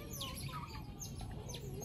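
High, squeaky chirps from small baby otters, several quick calls in a row over a soft background hiss.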